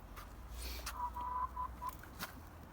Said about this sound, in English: And these are my hens, little hens.